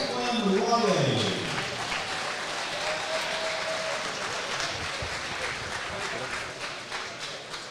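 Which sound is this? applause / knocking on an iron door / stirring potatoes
applause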